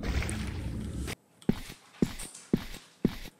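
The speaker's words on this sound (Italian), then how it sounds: "Il suono dei passi qua in questa caverna sembra qualcuno che lavora un vaso di creta." Four slow, evenly spaced footsteps sound in a cave in a video game, each a soft, squelching thud against near silence, coming just after a second of murky noise.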